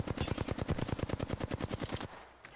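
A whole magazine emptied in the video game Apex Legends: a loud, rapid automatic burst of roughly twenty evenly spaced shots that stops abruptly, leaving a faint tail.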